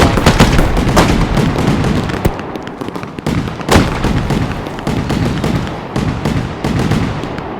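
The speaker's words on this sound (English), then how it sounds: "a fireworks show now." A fireworks show in the Fireworks Mania video game, with dense, loud, continuous bangs, crackles and booming bursts overlapping one another, plus several sharp stronger blasts standing out.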